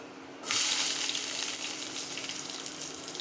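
A sudden loud hiss as onions hit hot tempering oil on a low flame, then a steady close sizzle that settles slightly but keeps frying continuously.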